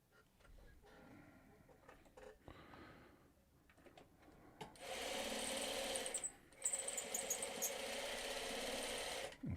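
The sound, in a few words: sewing machine sewing quilt hourglass blocks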